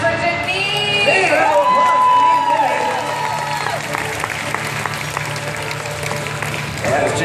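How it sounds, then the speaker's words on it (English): A crowd claps and cheers for Janine at a Fear Factor-style challenge, loud at first and then easing into a thinner, scattered ovation, with no words spoken. "applause for Janine today"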